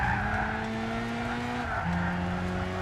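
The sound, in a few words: tyre squeal of a Clio in Gran Turismo 6 video game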